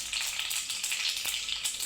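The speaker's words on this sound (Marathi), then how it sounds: "मोहरी तळते." Mustard seeds frying in hot oil while making raw mango chutney, a dense, bright, crackling sizzle that holds steady and close throughout.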